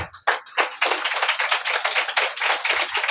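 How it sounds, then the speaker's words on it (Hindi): Audience applause during a church sermon: dense, continuous clapping from a crowd, fairly close and steady for a few seconds with no talking. "खुदा के लिए तालियां।"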